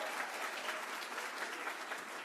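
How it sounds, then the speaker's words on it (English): An audience applauds the president at a closing celebration, steady clapping of moderate loudness with no voices. "Let's give the president a round of applause."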